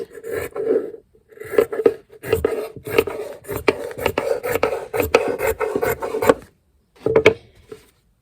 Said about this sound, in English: I'm going to cut it on a bit of a slant.